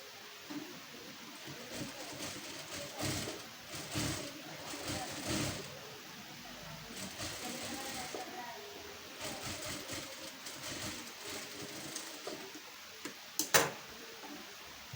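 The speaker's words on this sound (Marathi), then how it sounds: "पुन्हा एकदा आपण ह्याच्यावरनं टीप मारून घेऊयात." A sewing machine stitches lace onto a blouse in uneven runs of rapid mechanical ticking, close and moderately loud, with pauses and a sharp click near the end.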